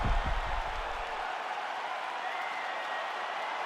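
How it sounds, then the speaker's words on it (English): A video game arena crowd in EA Sports UFC 5 cheers and applauds after a round, a steady wash of broadband clapping and crowd noise that holds through the whole stretch after some low thumps at the start. "the crowd voicing its appreciation after that round"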